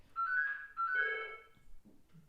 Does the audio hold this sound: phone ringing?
yes